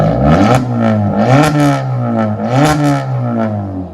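A 2013 Kia Forte engine revs hard through a loud, raspy straight-pipe exhaust with a 5-inch tip, rising and falling in repeated throttle blips toward 4,000 RPM, close by with no talking.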